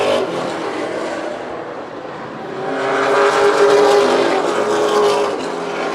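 Stock race cars roar past on an oval track during the Coastal 200, engines swelling loud and close as the pack streams by, building to a peak midway through before easing off slightly.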